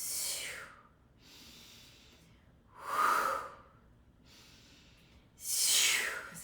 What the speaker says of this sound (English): So you see how I'm using my breath.